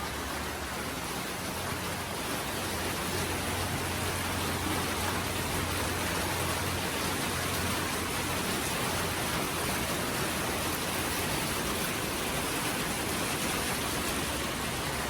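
Rain pours down steadily while the sun is still out, a loud, unbroken hiss close to the microphone with a faint low hum underneath, with no voices.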